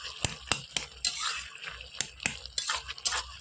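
A spoon stirs bottle gourd with shrimp in a pan for lau ghonto, making close, fairly quiet scrapes and taps in a loose rhythm of about a dozen strokes, with no talk.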